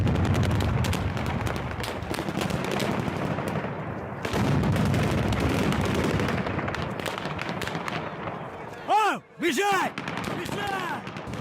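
Bursts of gunfire and stun grenade blasts from the occupation of Kherson crack in rapid, dense succession at a distance, with sharp repeated reports and a short pause near the end, amid a crowd's noise and shouting voices.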